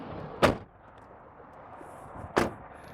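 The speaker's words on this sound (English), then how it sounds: "Close this door here." A door on a 2019 Ford Transit Connect cargo van shuts with two sharp, close thuds about two seconds apart over a quiet background.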